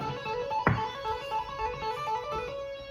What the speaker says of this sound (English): I'm going to teach you how to tap on guitar.